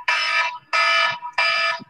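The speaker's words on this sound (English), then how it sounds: "That's the perimeter alarm right there." Perimeter alarm sounding in three loud, shrill electronic blasts, each about half a second long with short gaps between them, heard alone.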